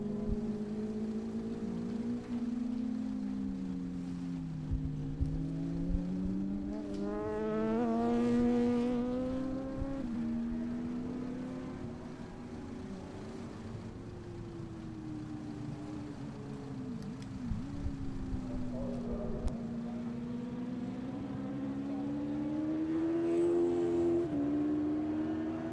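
Circuit race cars at an ICCR round 3 meeting accelerate out of Campion Corner toward turn 3, engines revving up through the gears in repeated rising sweeps, loud and continuous with overlapping cars and no talk.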